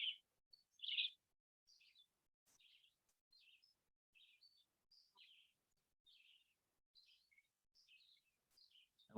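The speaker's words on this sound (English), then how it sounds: "Maybe you can hear the birds that are here in Vermont" Birds chirp and sing in a Vermont forest, a loud close call near the start followed by a string of faint, scattered high tweets spread across the quiet.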